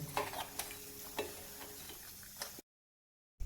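Jaggery is stirred as it dissolves in water in a pot over a gas flame turned up full, making steady scraping and soft bubbling sounds that cut off abruptly partway through.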